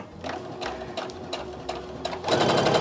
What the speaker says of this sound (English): I'm going to go ahead and put my sewing machine to a 1/4 inch stitch.